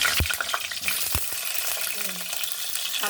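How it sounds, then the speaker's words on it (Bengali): Cut potatoes fry in hot oil with a dense, continuous sizzle, broken by a couple of sharp utensil knocks from stirring in the pan; no voices. "দেখুন এবার আমি আলু কটা তুলে দিলাম"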